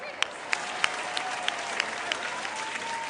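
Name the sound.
audience applause at school quiz competition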